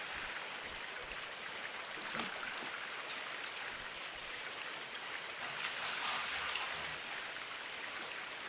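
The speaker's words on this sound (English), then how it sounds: "So we'll just keep dumping some water into here." Water dumped into a gold panning sluice in a video game makes a steady rushing, splashing wash that runs unbroken for several seconds, with a brighter surge of spray partway through.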